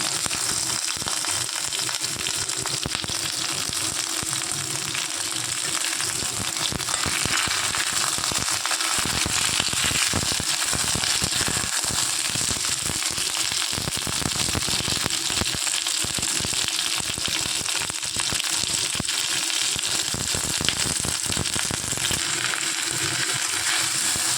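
Flat beans hit a hot pan and fry, giving a loud, steady sizzle and crackle that runs without a break, with no talk over it.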